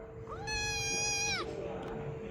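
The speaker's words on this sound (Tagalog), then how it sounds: "Pusa, oh!" A small kitten meows once, a clear rising-and-falling cry about a second long near the listener, in a quiet room by a doorway.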